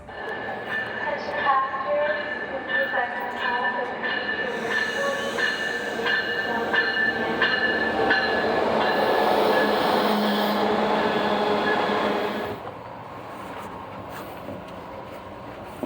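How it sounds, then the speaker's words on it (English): A train rumbles through a station with metallic clatter and squealing wheels, loud and sustained, then dropping off as it passes. "Here at the train station now, and about to walk in and wait for my train."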